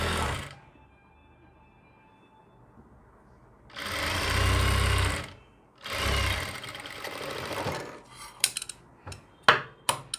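Sewing machine stitching a kameez as pads are attached, running in two sustained bursts of a few seconds each, fairly loud and close, followed by a few sharp clicks and knocks.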